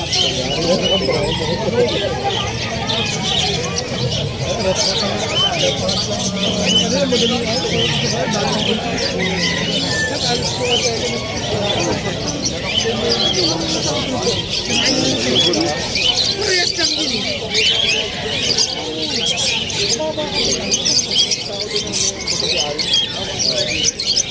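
Many birds chirp, tweet and coo continuously at a busy pet market in Malabon, with people talking throughout the crowded scene.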